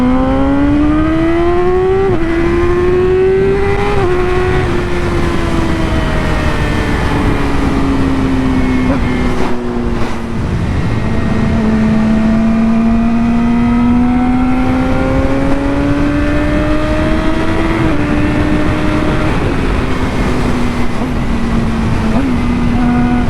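Yamaha R6 motorcycle with a quickshifter accelerating hard, its loud engine note climbing steadily, then briefly dropping at each clutchless upshift before rising again, sustained and close throughout.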